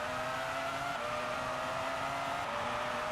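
Formula 1 car at the Argentine Grand Prix in Buenos Aires, racing video game, braking hard: a steady high engine whine with a faint tyre scrub runs unbroken for the whole moment, with no voices.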